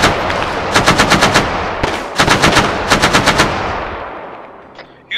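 Gunfire in a military video game operation: several rapid automatic bursts, loud and close, separated by short pauses, with the last echo fading out.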